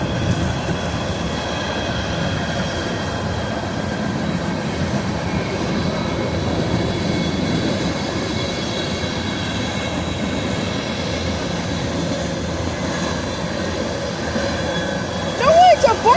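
A freight train of reefer and hopper cars rolls past close by, with steady rumbling wheels and rail noise throughout, faint squeals, and a brief clunk near the end.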